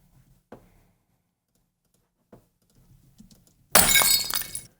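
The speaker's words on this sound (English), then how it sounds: "We're going to sync up the bottle break in version 1" A few soft knocks, then a glass bottle smashes loudly, with bright shattering debris ringing out for about a second.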